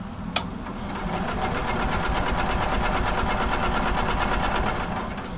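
An Onan generator engine runs unevenly just after a cold start, its carburetor in need of cleaning. It makes a steady, rapid mechanical chugging with rhythmic knocking, close and fairly loud, and starts with a brief click.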